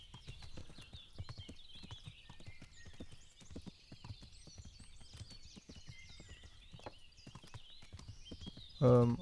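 A horse's hooves clip-clop at a steady walking rhythm in the game Kingdom Come: Deliverance, close and continuous, with a faint high jingle above and a short loud thump at the end.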